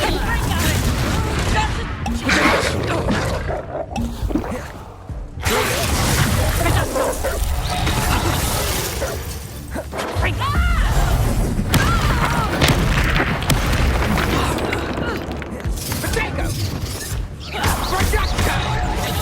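Rapid spell blasts and booming impacts from Bombarda and Reducto erupt in a Hogwarts Legacy battle, dense and loud throughout, with repeated crashes mixed under shouted voices and game effects.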